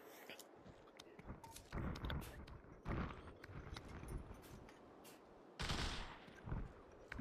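A weapon fires in the VR shooter Population: One, with several short, fairly faint bursts of gunfire spread over a few seconds.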